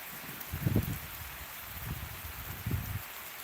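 Rain falls steadily with a constant broadband hiss, joined by a few soft low thuds and rustles. No voices are heard.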